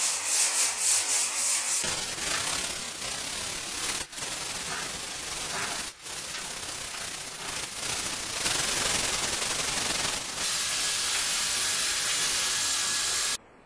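Steady hand sanding of Bondo body filler on a 1959 Chevy pickup hood with 150 grit sandpaper, a close, continuous scratchy rubbing that runs nearly unbroken, with only brief dips in its strokes.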